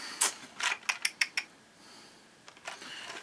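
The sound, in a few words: screws being driven into a model kit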